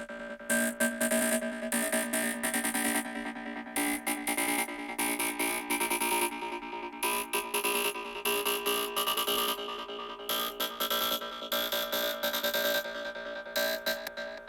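Psytrance synth sequence, a dense, loud driving pulse of rapid gated synth notes with a slowly rising filtered tone, steady and continuous throughout.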